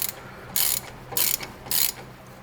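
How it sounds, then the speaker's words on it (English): A torque wrench set to 10 foot-pounds ratchets in three short, crisp bursts at close range, tightening a fastener during brake work on a 1986 GMC Square Body truck. "We'll get this tightened"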